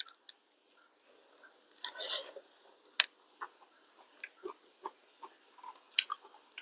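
Close-up chewing of fried leafy greens (shak bhaji) in a Bangladeshi home meal: soft wet smacking and crunching bites with a brief rustle, scattered irregularly across a quiet background.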